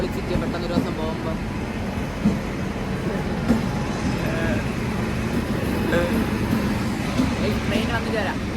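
Train rumbling at a railway station, a steady low clatter of railway cars filling the scene while people chat nearby.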